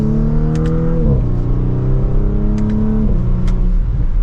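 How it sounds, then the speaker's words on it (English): A 2024 Audi S5 Sportback's engine revs loudly as it accelerates in dynamic mode, rising in pitch through each gear, with quick drops at the shifts and a deep throaty exhaust note. "That exhaust definitely has a good tone to it."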